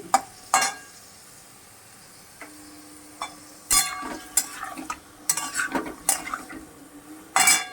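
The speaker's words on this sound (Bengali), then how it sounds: "শুধু চিকেনটাকেই ভেজে নিচ্ছি" Chicken pieces fry in a pan with no salt or turmeric added, stirred with a utensil that scrapes and clinks against the metal in bursts over a soft sizzle, close and moderately loud, with no talking.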